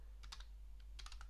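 Quiet keyboard typing: two short bursts of quick key presses separated by a pause, soft and close against a low background hum.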